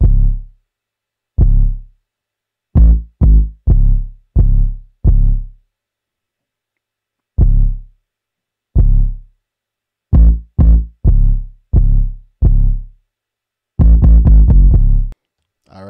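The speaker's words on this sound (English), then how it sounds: "So now I'm going to start off with the 808 pattern." Booming 808 bass hits of a trap beat tapped out alone in a sparse pattern, single and clustered notes separated by silences, ending in a quick roll of rapid hits.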